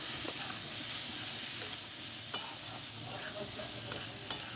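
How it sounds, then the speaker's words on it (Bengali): Chicken pieces fry in a pan for a homemade samosa filling, giving a steady close sizzle broken by occasional sharp stirring clinks, with no talk. "ভাজা ভাজা করতে হবে।"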